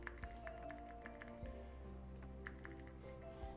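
A small keycap fidget toy being mashed and squished, giving light, irregular clicky taps at close range, quiet and without any talking.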